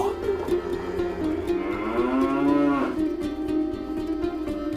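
A single long, drawn-out cow moo that rises and falls, close and clear against faint farmyard background, with no talking.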